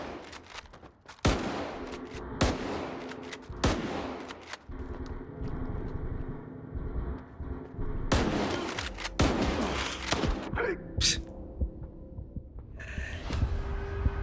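Gunfire bursts in S.T.A.L.K.E.R. 2, several sharp loud volleys spaced irregularly over a low ambient hum, with no talk.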